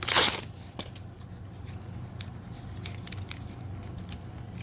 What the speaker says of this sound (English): I'm ripping a piece of paper right now to make my blending stump.